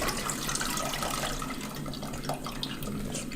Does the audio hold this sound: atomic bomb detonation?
no